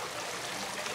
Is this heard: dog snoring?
no